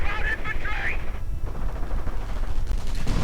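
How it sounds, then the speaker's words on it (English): Gunfire and mortar rounds in a World War II real-time strategy game, with dense overlapping shots and booms under a caster's excited commentary throughout. "Mortar rounds flying as well."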